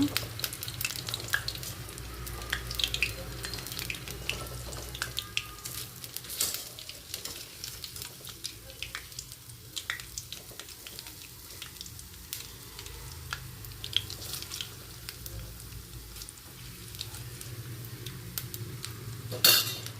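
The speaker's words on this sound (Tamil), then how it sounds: "வடை வெந்துட்டுருக்கு." Vadai frying in oil over a low flame, a steady crackling sizzle with occasional metal utensil clinks and scrapes, close and continuous for the whole stretch.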